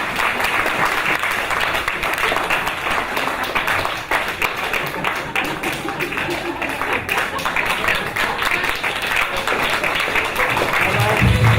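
A crowd at a political forum applauds in a sustained, close wash of clapping that holds steady throughout, with a few voices faintly mixed in.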